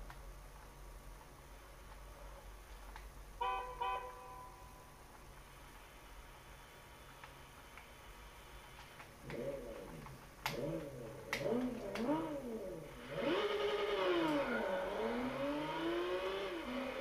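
A Nissan Skyline GT-R R34 revs and accelerates in the racing game Gran Turismo 6. Quiet, faint engine noise gives way in the second half to loud, rising and falling revs with sharp gear-change jumps.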